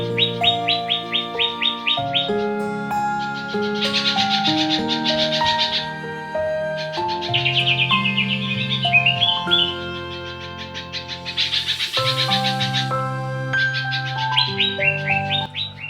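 A caged green leafbird sings alone, a varied run of bright chirps, whistles and trills in quick phrases, close and clear with brief pauses between bursts.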